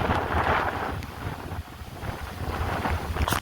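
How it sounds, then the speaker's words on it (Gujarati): Strong, gusting storm wind in Banaskantha, Gujarat roars and buffets the microphone in a continuous rumble, rising and falling, with no voices. "વાવાઝોડું અને વાતાવરણ બગડી ગયું છે બનાસકાંઠાનું"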